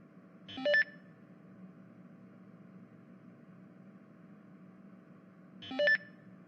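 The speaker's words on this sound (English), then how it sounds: "Come on, Daniel, pick up your phone. I've been calling since morning" A phone line plays a short electronic ringback tone, then falls quiet, then plays it again about five seconds later, over a steady low hum with no voices.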